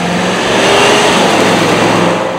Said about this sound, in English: The exhaust note brings a pleasant growl when you pour the coals on.